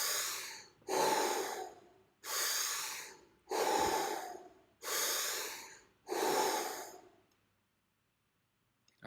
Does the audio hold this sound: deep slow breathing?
yes